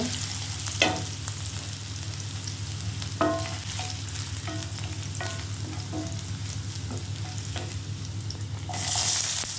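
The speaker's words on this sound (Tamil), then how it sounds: "அதையும் இந்த எண்ணெயில் சேர்த்து நல்லா வதக்கிக்கோங்க" Crushed garlic sautéing in hot oil, a continuous close sizzle over a low hum, with intermittent metallic spatula taps and scrapes and a brief louder burst of sizzling at the end.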